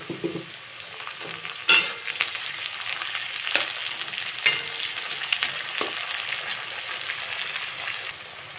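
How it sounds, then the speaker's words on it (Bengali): Chopped onion, garlic and tomato fry in a pan for a Bengali pabda fish curry, with a steady close sizzle broken by a few sharp stirring scrapes and clatters. "কোচানো পেঁয়াজের সঙ্গে এই কোচানো রসুনগুলোও ভেজে নিচ্ছি"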